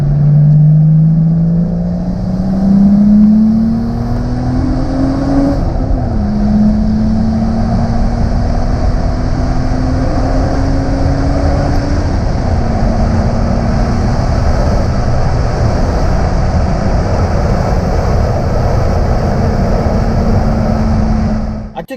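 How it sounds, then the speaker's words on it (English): A turbocharged Mercedes W203 with an M104 engine running 11 psi of boost launches hard in first gear with its tires spinning, a loud sustained engine drone whose pitch climbs, drops back at a shift, then holds steady. "I took this clip on my phone of trying to launch the car, but as you'll see, it just roasts the tires in first gear"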